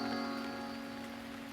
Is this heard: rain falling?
yes